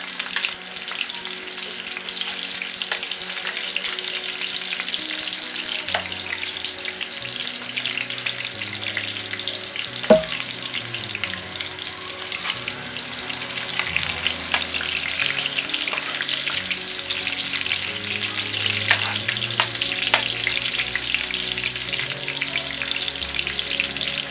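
Plantain and egg fry in a hot pan, giving a steady close sizzle with faint crackles and an occasional stir throughout.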